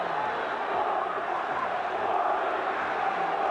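A large Corinthians football crowd in a stadium during a 1999 Campeonato Brasileiro match against Palmeiras, a continuous distant roar of massed voices chanting the team name, steady and unbroken.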